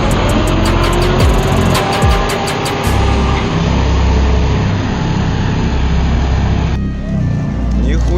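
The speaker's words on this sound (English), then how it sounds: "A container truck climbs a steep incline, its front wheels lifting under the massive weight," Container truck engine labouring up a steep incline under heavy load, a loud, continuous low diesel drone with grinding strain and a shift in tone near the end.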